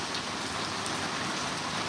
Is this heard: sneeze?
no